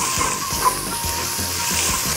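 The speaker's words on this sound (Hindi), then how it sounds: "तो इसको हम अच्छी तरह भून रहे हैं" Mutton shanks with onions, cardamom and cloves sizzling in a pan for Rajasthani laal maas, a close, steady frying hiss with faint scraping thumps underneath.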